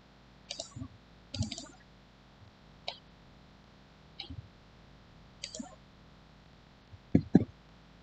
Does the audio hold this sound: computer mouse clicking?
yes